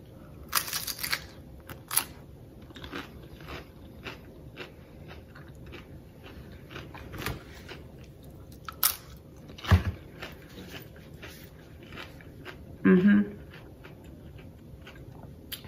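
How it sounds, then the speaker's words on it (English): A crunchy tostada chip piled with shrimp, avocado, onion and jalapeno in a Mexican shrimp cocktail is bitten into, giving a few sharp crunches and chewing sounds, close and isolated against a quiet background. "Nice crunch of the onion and the jalapeno."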